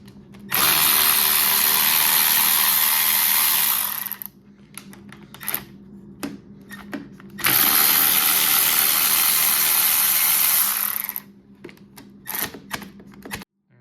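A powered ratchet loosens bolts on a Honda CRF450R engine during top-end work, making two long, loud whirring bursts close by, with metallic clicks and tool handling in the pauses between.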